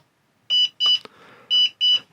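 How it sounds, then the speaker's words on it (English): A BETAFPV LiteRadio 4 ELRS radio in binding mode gives four sharp, high electronic beeps in two quick pairs, close and loud, with a soft click between them. "It's flashing red here and it's beeping."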